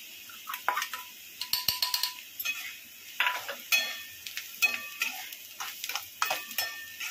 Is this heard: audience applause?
no